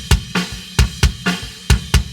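Metal kick drum picked up close by a Sennheiser 901 boundary microphone, about eight clean, punchy thumps with sharp attack in a quick, uneven pattern, alongside other kit hits and no talk.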